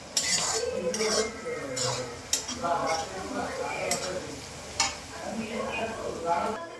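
Chopped fenugreek leaves go into brinjal bharit in a pan. Utensils clink against cookware and faint sizzling and stirring run throughout, with a few sharper knocks, while a voice talks over the cooking.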